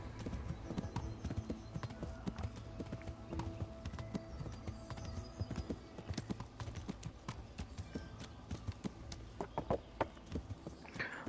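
A roan horse walks at a steady pace in Kingdom Come: Deliverance, its hooves clip-clopping in a close, continuous rhythm over a dense ambient game soundscape, with a faint whinny and no talking.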